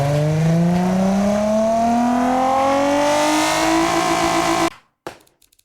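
A Monda Civil car in BeamNG, tuned to about 250 horsepower, revs its engine and exhaust loudly. The pitch climbs steadily for several seconds, then cuts off abruptly, leaving a couple of faint clicks.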